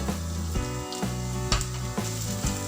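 Mustard seeds and chana dal sizzle steadily in hot ghee for a tempering, a continuous close frying crackle with no voices over it.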